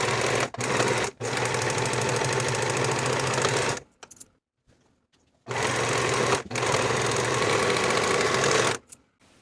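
Sewing machine finishing the raw edges of a dress's center back seam, a loud rapid mechanical whir in long runs with brief pauses, stopping fully for about a second and a half midway.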